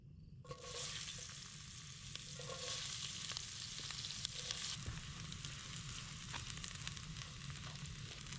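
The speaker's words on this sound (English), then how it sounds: "Next step is go ahead and add our diced onions here." Diced onions hit hot oil with whole spices, starting a sudden, loud sizzle that continues steadily and close up, with occasional small pops and no talking.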